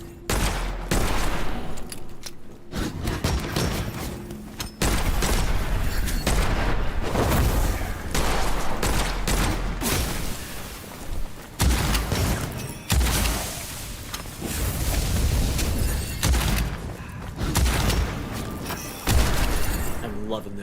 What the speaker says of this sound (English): I'm loving this shotgun.